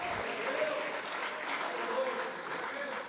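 A church congregation applauds together in a steady, sustained wash of clapping, heard at moderate distance under an ongoing voice.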